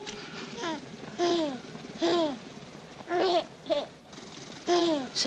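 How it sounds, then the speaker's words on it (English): A baby babbles and coos in short bursts inside a car, rising and falling sing-song sounds close to the microphone, with quiet pauses between them. "It's the baby. It's in the car."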